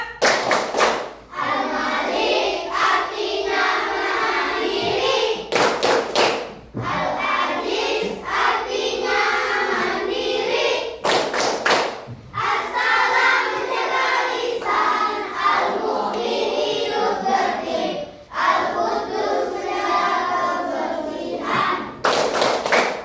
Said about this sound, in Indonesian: Tepuk 5 Asmaul Husna